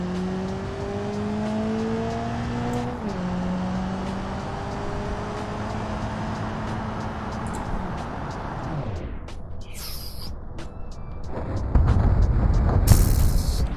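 A small car in BeamNG Drive accelerates with a rising, shifting engine whine, then hits a round straw bale with a sudden thud and a burst of crunching impact noise.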